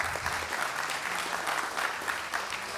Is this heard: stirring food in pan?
no